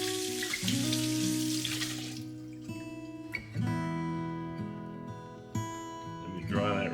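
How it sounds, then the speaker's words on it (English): A laser-engraved cup rinsed under running tap water: a close, rushing stream splashes for about two seconds, then stops, and bright ringing clinks and hums from the handled cup follow in the quiet. "just rinse it a little bit with water"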